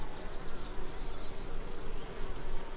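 Honey bees buzz steadily around a hive at the start of swarming, a dense continuous insect drone with no voices, moderately loud throughout.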